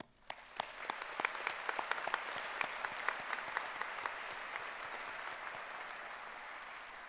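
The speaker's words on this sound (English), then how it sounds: "I invite everyone to join me in applauding their achievements" Audience at a college graduation ceremony applauding graduates, an even, fairly faint and distant wash of many hands with a few sharper individual claps standing out.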